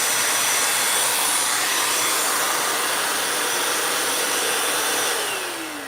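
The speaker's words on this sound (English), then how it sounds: "So while the shaft is spinning, I just touch the sandpaper on it and it cleans itself." A vacuum cleaner shaft spins with a steady, loud broadband whir while sandpaper is held against it to clean it, the tone holding constant before dropping off slightly near the end.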